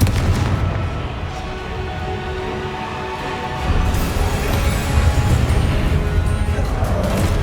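A Confringo spell explosion in Hogwarts Legacy, a loud rumbling blast that swells midway into a heavier burst of booms and crackling debris amid sustained game noise.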